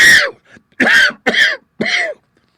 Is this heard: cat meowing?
no